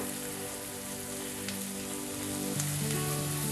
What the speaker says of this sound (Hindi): 2 से 3 मिनट प्याज को अच्छी तरह से हिलाना है